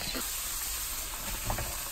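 Onions frying in a pan while cooking beef for lasagna bolognese, a soft, steady sizzle and hiss heard close but quiet, with faint stirring and murmuring voices in the background.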